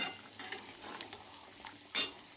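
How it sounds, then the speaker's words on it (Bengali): Chicken kasa is stirred in a pan with a faint, low sizzle, and a utensil scrapes and taps against the metal in scattered, quiet strokes. "আমি চিকেনটা ভালো করে কষিয়ে নিচ্ছি।"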